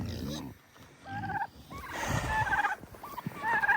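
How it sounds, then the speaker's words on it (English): Several snow-covered farm turkeys gobble close by, their warbling calls overlapping in quick bursts that grow louder and busier toward the end. "These turkeys are a major issue."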